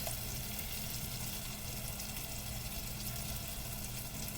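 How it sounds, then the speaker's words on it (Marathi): Boiled potato chunks going into a Malvani-style prawn curry in a pan, a steady faint sizzle and bubbling with no break. "हा इथे असा उकडून मोठे मोठे तुकडे केलेले आहे, हा घालत आहे."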